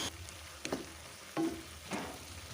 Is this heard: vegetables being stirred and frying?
yes